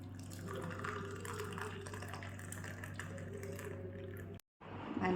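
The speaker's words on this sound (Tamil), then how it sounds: "டீ ரெடி ஆயிடுச்சு, ஊற்றலாம்." Freshly made masala tea is poured in a steady liquid stream, close and fairly soft, stopping abruptly near the end before another brief burst of sound.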